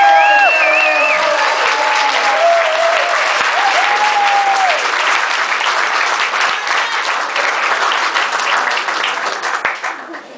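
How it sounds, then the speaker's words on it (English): A comedy audience at the Spaghetti Warehouse applauds and cheers to welcome a comedian to the stage: loud, dense clapping with whoops and whistles that holds steady, then thins out near the end. "please make some noise and welcome to the stage for the first time, Mr. Matt Cooper."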